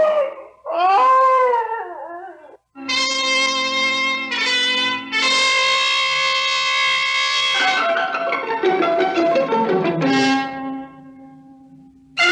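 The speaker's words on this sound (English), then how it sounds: "A dog howls at the back door and whines with fear." A dog at a back door howls and whines with fear, a long series of rising and falling wails and drawn-out whimpers, loud and close, with brief gaps between cries.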